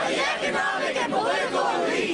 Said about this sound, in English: one person speaks and the crowd repeats their words in unison so that everybody can hear what the unamplified person said